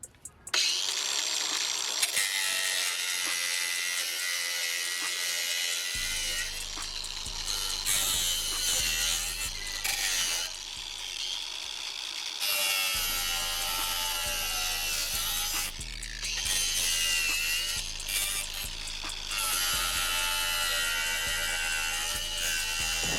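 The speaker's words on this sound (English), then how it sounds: "we'll be using the angle grinder to cut off these excess nails" A Ryobi angle grinder cuts excess nails off reclaimed pallet beams, a loud continuous high-pitched whine and grind that drops out briefly a few times and resumes, with metallic screeching as the disc bites, and no talking.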